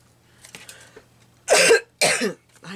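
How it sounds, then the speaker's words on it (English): A woman coughs twice, loud and close, while crafting a vintage-style paper collage, after a few faint rustles at the start. "I wasn't coughing until I started talking."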